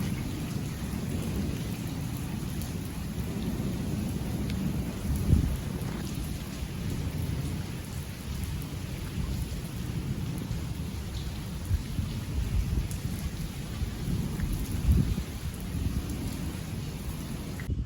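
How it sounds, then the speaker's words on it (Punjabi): Steady rain pours down continuously, a dense, even wash of patter with a couple of slightly louder gusts, and no voices. "ਧੁੱਪ ਦੇ ਵਿੱਚ ਮੀਂਹ ਪੈ ਰਿਹਾ ਦੇਖੋ"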